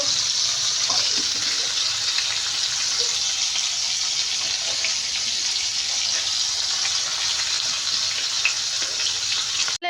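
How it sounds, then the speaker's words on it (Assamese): Fish fries in a pan with a constant, even hiss of spitting oil, close and steady throughout. "এইফালে মই মাছ ফ্ৰাই কৰি আছোঁ"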